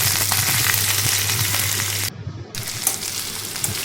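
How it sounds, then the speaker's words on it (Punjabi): Potatoes shallow-frying in oil in a pan for an arbi-leaf sabji, a loud, steady sizzle with a brief dip midway and occasional stirring, no voices. "ਹੁਣ ਆਲੂ ਸ਼ੈਲੋ ਫਰਾਈ ਹੋ ਗਏ ਨੇ"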